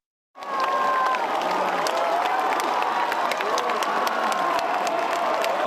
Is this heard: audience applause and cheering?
yes